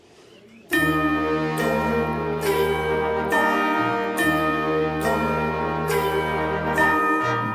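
Church bells at Altötting, Bavaria, ring out loud and close after a brief quiet start, their rich overlapping tones striking in a slow, steady pattern that sustains throughout.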